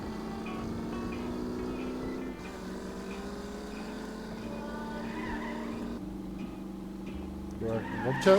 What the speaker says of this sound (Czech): Občas ten zvuk toho motoru je jaký divnej.